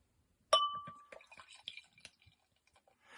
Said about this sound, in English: Let's pour this out, see what we got.